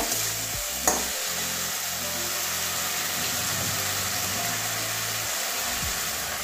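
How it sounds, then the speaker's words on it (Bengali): Egg and cauliflower curry stir-fried in a pan: a continuous loud sizzle with a spatula scraping and stirring close by, with no one speaking. "ভালো ভালো করে কষিয়ে নেব"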